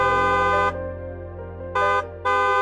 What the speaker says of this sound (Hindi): कौन हॉर्न बजा रहा है?